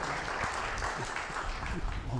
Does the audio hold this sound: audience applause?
yes